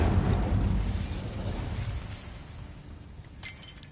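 The Incendio fire spell in Hogwarts Legacy bursts with a loud whooshing, crackling blast that gradually fades into a rumbling fiery tail, with a brief sharp flare near the end.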